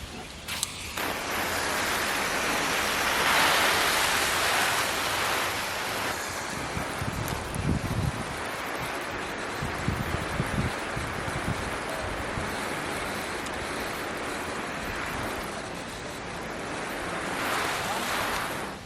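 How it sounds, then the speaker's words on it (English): A garden hose sprays water onto cardboard laid over a garden bed and weighted with bricks: a loud, steady broadband hiss lasting throughout, with some patters and thuds in the middle as the stream shifts across the soaking surface. "I'm just gonna water it really good so the cardboard gets nice and saturated"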